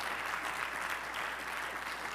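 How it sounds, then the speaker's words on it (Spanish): A church congregation applauding steadily, a dense and even wash of many hands clapping together at moderate volume throughout, with no talking. "¿Puede dar un aplauso al Señor con todo su corazón?"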